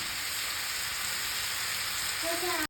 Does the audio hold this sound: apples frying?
yes